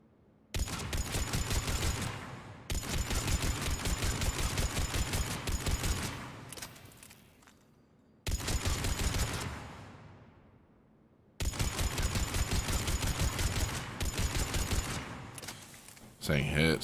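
Gunfire in the video game Mass Effect 3 comes in long, dense volleys of rapid shots separated by short pauses, loud and close, with faint talk between bursts.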